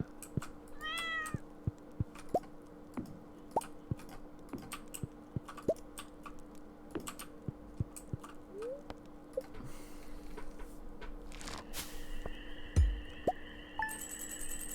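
A cat meows a few times, short rising calls early on, amid quiet indoor sounds with some scattered clicks and taps.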